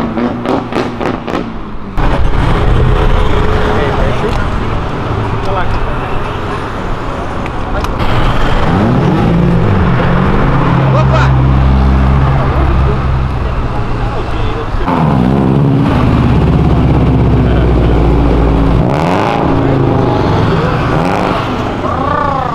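Mitsubishi Lancer Evo 9 engine revving hard with rising and falling pitch sweeps, a loud continuous roar with thumps, heard close up while people talk over it.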